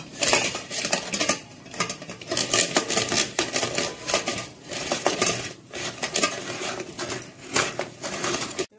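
Continuous metallic clanking and scraping from a hand-cranked puran grinder working thick, hot cooked lentil filling for puran poli, steady and close, with no talking.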